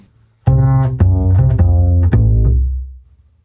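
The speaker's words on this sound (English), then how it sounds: "The next chord is the F dominant 7 chord, and it sounds like this." A bass plays a run of notes outlining an F dominant seventh chord, five or six plucked tones in a steady rhythm, clear and close, ending with a fade.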